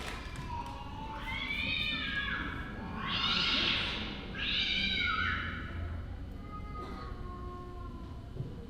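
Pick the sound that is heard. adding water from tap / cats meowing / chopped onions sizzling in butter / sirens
cats meowing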